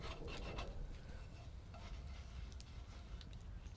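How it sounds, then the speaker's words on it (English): A spoon scraping and cutting through a thin potato, wild garlic and egg omelette in a pan outdoors: faint close rasping and rubbing strokes over a low steady background hiss, no talking. "we just run the spoon through to cut it up"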